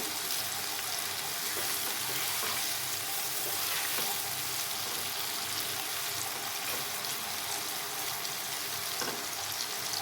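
Bitter gourd (karela) fries lightly in a pan with a steady, even sizzle that runs throughout, close and moderately quiet, with occasional faint clinks or stirring.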